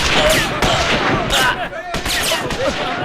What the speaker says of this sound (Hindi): अरे फायरिंग कौन कर रहा है देखो।